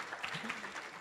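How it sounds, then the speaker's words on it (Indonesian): An audience at a Jakarta high school film festival claps in a brief, steady burst of applause that fills the moment, with some voices mixed in. "Tepuk tangan lagi dong."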